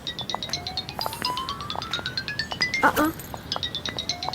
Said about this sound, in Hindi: इस वक्त किसकी कॉल आ रही है सुबह सुबह?